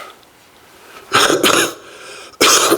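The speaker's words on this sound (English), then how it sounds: "excuse me for coughing" A man coughs in two short bursts, close and fairly loud, separated by a brief quiet pause.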